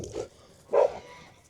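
Farm dogs give two short barks near a barn, the second louder, heard at moderate distance against quiet surroundings.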